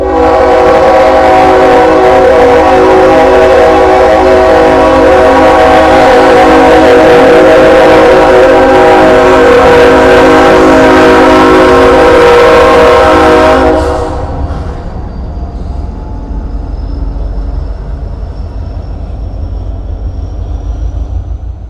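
A loud train rumbles past close by with a steady droning clatter for several seconds, then suddenly drops away to a quieter distant hum.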